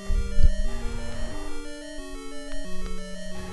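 A deep, sustained roar from a boss monster in the next room in The Legend of Zelda, over layered synthetic tones, looming in the background with a sharp thump near the start.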